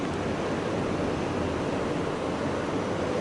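Sea waves heard from a resort balcony in Sri Lanka, a steady broadband wash of surf mixed with wind rush on the microphone, continuous and fairly loud with no distinct individual breakers and no voices.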